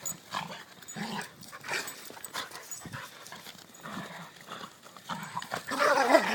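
A pet dog makes playful noises while romping with other dogs, a run of short grunts, huffs and pants repeated through the clip, fairly close and unaccompanied by talk.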